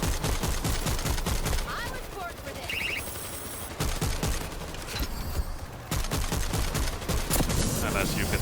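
Relentless gunfire from the zombie shooter World War Z: dense, overlapping automatic bursts rattle almost nonstop, loud and close, with a few brief lulls and scattered game effects in between.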